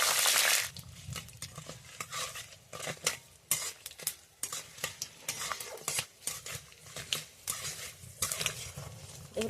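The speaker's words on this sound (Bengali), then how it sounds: "চিনে বাদামটাও দিয়ে দেবো। একসঙ্গে ভালো করে ভেজে নেব।" Curry leaves and peanuts fry together in a pan for lemon rice, heard as a soft sizzle broken by frequent spatula scrapes and metallic clinks against the pan in an uneven rhythm, with no talking.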